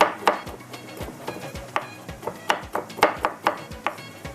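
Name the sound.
chopping almonds with a knife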